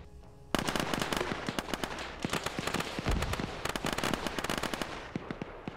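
Rapid crackling bursts of gunfire in the convoy-combat video game Convoy Raiders, dense overlapping shots and volleys at steady loudness, sounding like heavy automatic fire from several weapons at once.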